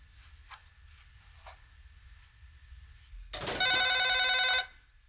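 A telephone rings once indoors in a home, a loud electronic trill lasting about a second after near silence and faint room sounds.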